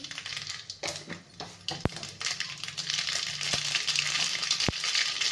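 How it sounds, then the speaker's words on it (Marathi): Quiet crackling and popping of mustard seeds sizzling in hot oil in a wok, with a few sharp pops standing out against the soft frying hiss. "इकडे कढई ठेवलेली आहे गरम करायला आपण, तर त्यात टाकणार आहे आपण 1 चमचा मोहरी"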